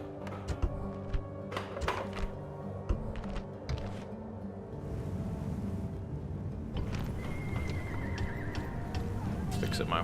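Horses neigh and whinny several times in a desert strategy game set in the Sassanid era, mixed with clip-clop hooves and game music, with more continuous noise taking over in the second half; a voice talks over parts of it.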